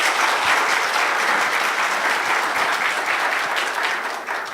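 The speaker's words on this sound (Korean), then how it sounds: "교수님을 큰 박수로 모시도록 하겠습니다" A large audience at a symposium applauds to welcome a computer science professor. The clapping is loud and steady, fills the whole moment and tapers slightly at the end.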